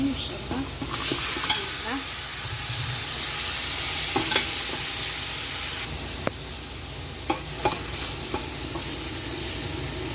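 Meat with vegetables sizzles in a hot frying pan for a meat stew, a steady loud hiss with scattered pops and stirring scrapes, close and continuous, no talk.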